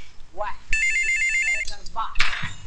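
A telephone rings in loud repeated electronic trills as a call is placed, with voices talking before and after the ring.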